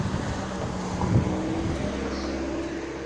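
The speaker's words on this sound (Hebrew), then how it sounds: "עוד מכונית." A car drives past on a street, its low broad engine and tyre rumble swelling near the middle and fading, with wind noise on the microphone and no talk.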